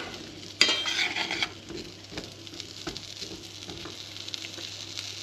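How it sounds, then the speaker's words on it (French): Food fries gently over low heat in olive oil while a utensil stirs it, giving a soft, continuous sizzle with a sharp scrape or clatter near the start and light intermittent stirring taps afterward. "je vais les faire revenir à feu doux dans de l'huile d'olive"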